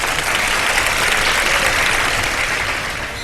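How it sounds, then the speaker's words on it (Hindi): Loud, sustained applause from a studio audience at a televised iftar game show, steady dense clapping throughout with a slight fade at the end and no voices over it. "बहुत सारी तालियां हैं।"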